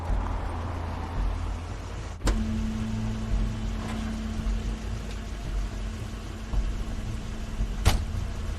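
Vehicle sound from the video game The Wolf Among Us, tied to Crane's car: a steady low engine drone with a brief door-like thump early on and another sharp knock near the end.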